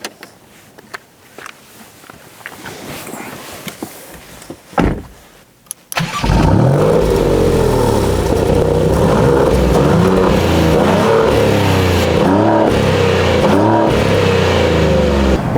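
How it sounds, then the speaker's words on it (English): Maserati GranCabrio with the Nettuno engine: a few quieter knocks and clicks, then the engine fires up abruptly and settles into a loud, steady rumble that rises as the car accelerates. "It's now time to drive the GranCabrio."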